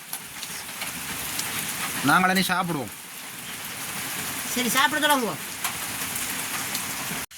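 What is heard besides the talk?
heavy rain falling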